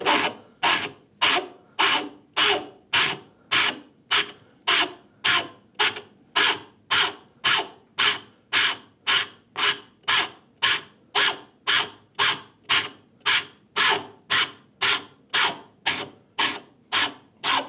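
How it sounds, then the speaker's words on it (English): A coarse rasp shapes a wooden router plane handle held in a vise, producing a steady rhythm of about two strokes per second. Each stroke gives a close, bright, scratchy rasping. "this rasp is very aggressive on this face"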